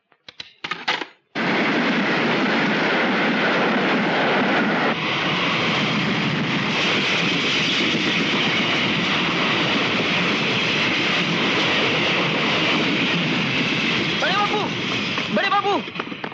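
A super express train rushes past at high speed, a loud, close, continuous roar that starts abruptly and holds for about fifteen seconds, with a few rising squeals near the end.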